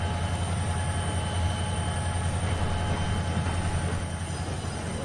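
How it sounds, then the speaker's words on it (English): In Trainz 12, a heavy train of 20 fully loaded coal cars hauled by two GP38 diesel locomotives rolls past, giving a steady, close rumble of engines and wheels with a faint high squeal over it. "It's 20 fully loaded coal cars, but yeah, I would think 2 GP38s would be able to handle this pretty easily"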